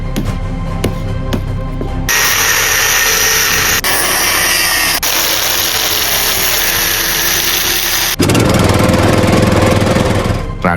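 A tractor engine runs near a river, a loud, steady mechanical rumble and clatter that changes character abruptly a few times across the stretch.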